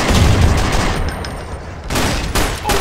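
Rapid bursts of loud gunfire in GTA San Andreas crackle and boom in quick succession, dense and close, with brief sharper shots breaking through.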